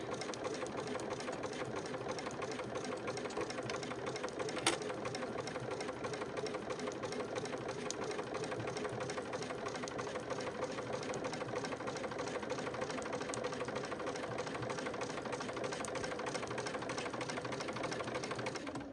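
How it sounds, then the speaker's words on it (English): Sewing machine running steadily along a seam of a sliding pencil case with a back tack, a continuous close mechanical whir with a single faint click near the start. "we're going to sew nicely down this edge all along here"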